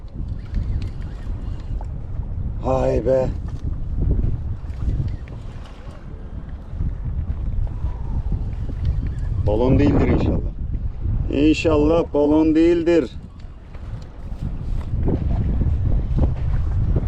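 Strong wind at sea on the Mediterranean buffets an inflatable boat, a steady low roar of gusts over the microphone, broken by short bursts of someone talking.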